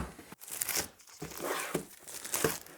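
Packaging for a NuFi gaming keyboard crinkles and tears as it is unboxed, with continuous close rustling of paper and plastic broken by a few sharper rips.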